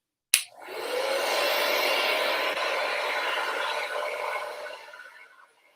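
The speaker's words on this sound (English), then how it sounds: "I'm just going to take the hair dryer just one more time" A hair dryer switches on with a click and blows in a steady, loud whoosh for about five seconds before winding down. No one speaks.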